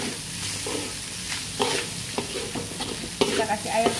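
Pampis fish being stirred as it fries in a pan with bitter melon, a steady sizzle punctuated by repeated spatula scrapes and metallic knocks that grow busier toward the end, no speech.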